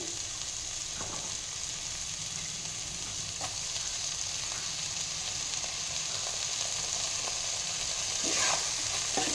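Tomatoes frying in a pan while cooking cluster beans sambar, a steady soft sizzle with a few faint stirring clicks throughout, no voices.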